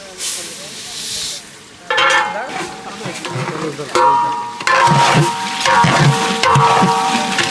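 Rice being stir-fried for beef tehari with onion, cinnamon, cardamom and bay leaf, a loud steady sizzle and hiss with scraping stirs that jump louder in bursts.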